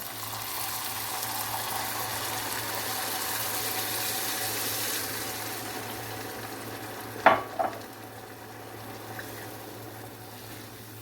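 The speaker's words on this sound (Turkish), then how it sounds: "Üç buçuk su bardağı su ekliyorum." Water poured into a hot pot while making green lentil bulgur pilaf: a steady broad hiss for several seconds that eases off, followed by a couple of sharp clanks of utensil on pot.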